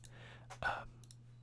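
Soft clicking from an ASMR-style Fantasy Premier League session, a few quiet close clicks with breathy mouth sounds and a faint steady hum underneath.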